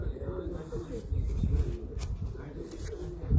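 Pigeons kept on a rooftop coo in a low, steady rumble that runs through the whole stretch, with faint rustling and other soft background noise.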